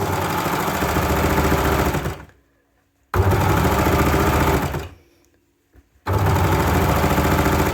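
Sewing machine stitching a fabric scrunchie, running in three loud, fast steady bursts with short silent pauses between them.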